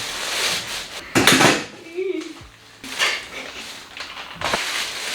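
Ceramic plates and dishes clatter and clink in a home kitchen as food is moved onto them, with a few sharp knocks, a scrape and quieter handling in between, and a voice briefly speaking.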